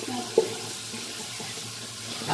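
Tap water runs steadily into a sink while a child's hands are washed, a close, even hiss with a small splash.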